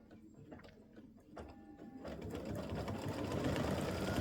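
A sewing machine satin stitches around the top of a football turkey appliqué shirt, starting with a few slow stitches and then running fast in a dense, steady mechanical chatter up close.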